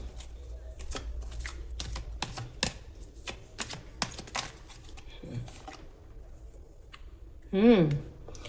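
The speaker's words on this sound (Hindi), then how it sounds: "चलिए देखते हैं बच्चों को लेकर कौन से कार्ड्स निकलते हैं।" Tarot cards are shuffled close up in a quick, crisp riffling patter of repeated dry slaps, with a short spoken sound near the end.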